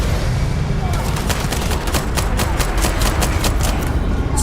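Rapid gunshots in the space game Starfield crack out in a fast, even string of roughly a dozen loud shots after a brief lead-in of steady background noise.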